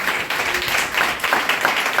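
A church congregation claps together during a Telugu fasting and revival service, a brief burst of busy, bright applause filling the room with a faint voice underneath.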